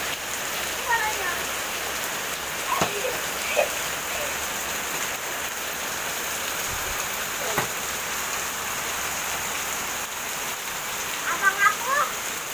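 Steady outdoor rain hisses on surfaces while a child plays ball alone in it, a constant close wash of drops with occasional light knocks and faint voice sounds in the background.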